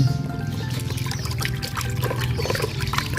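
A tablespoon of liquid is poured into a plant pot, giving a steady trickling splash that runs continuously and close up, with no talk over it.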